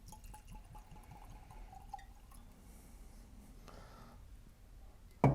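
Whiskey, a rye, pours and trickles into a glass, soft and close, with light clinks and drips in a quiet room, ending in a sharper knock.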